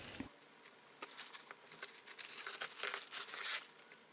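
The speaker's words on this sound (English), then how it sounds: "I want to go ahead and tear away the edges of it" Paper napkin with its glued back being torn away at the edges by hand: soft, close crinkling and ripping in irregular little bursts, quiet and growing a bit louder toward the end.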